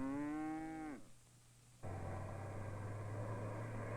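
A single cow on a farm lets out one long, loud moo that cuts off abruptly. After a brief quiet gap a steady low engine-like drone starts up and continues.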